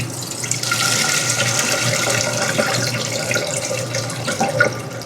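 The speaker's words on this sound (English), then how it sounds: "now I'm going to take it off burner and rinse it under cold water to stop the cooking" Cold tap water runs steadily into a sink over freshly boiled rice being rinsed to stop the cooking, a close, continuous splashing rush with small drips and shifts in the flow.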